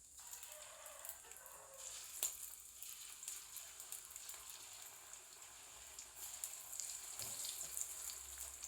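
Mushroom chilli pieces frying in hot oil give a steady, fairly faint sizzle with scattered crackles and pops that continue without a break and without talk.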